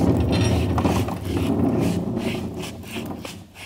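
A Cargo Glide CG1500XL bed slide frame being pulled out on a 2012 Ford F-150, a steady close mechanical rumble with rolling, ratcheting clatter that eases off toward the end.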